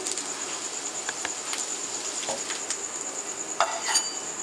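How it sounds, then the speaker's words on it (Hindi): A potato sandwich frying in a pan makes a continuous gentle sizzle, heard close, with a few light clicks of the turner near the end. "थोड़ा सा उस साइड से दोबारा फ्राई करते हैं, फिर हमारा सैंडविच तैयार है"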